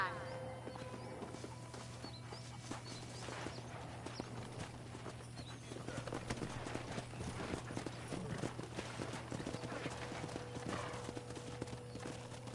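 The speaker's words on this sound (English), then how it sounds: "That ranch hand said there's a pack of wild horses nearby." Horses' hooves clop rhythmically across ground at a steady pace in the video game Red Dead Redemption, with a brief horse whinny and speech faintly mixed in.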